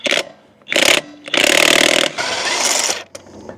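DeWalt cordless impact wrench working on the pitman arm of a Jeep Gladiator, rated at 1,200 foot-pounds: several loud, close rattling bursts, a short one followed by two long hammering runs, with brief pauses between.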